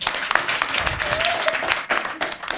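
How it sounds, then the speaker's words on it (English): An audience claps together after a quiz answer during a Chevening scholarship session with the UK embassy in Mali, a steady dense round of applause at close range that carries on throughout without pause. "Can we clap?"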